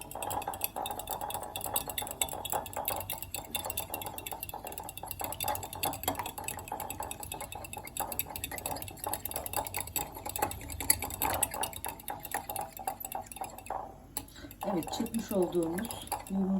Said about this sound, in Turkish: Bir çatal yardımıyla bunları çırpıyoruz.